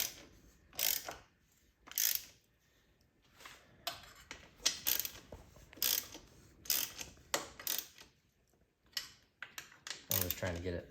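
Ratchet wrench snugging the header pipe bolts on a 2008 Honda CRF450R during a Yoshimura RS-2 exhaust install, heard as repeated short bursts of clicking with pauses between strokes, close up.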